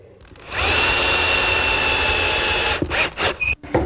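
A power drill drives screws into plywood pieces of a chop saw station, a steady whine of nearly two and a half seconds followed by a few short, stuttering bursts as the screw seats.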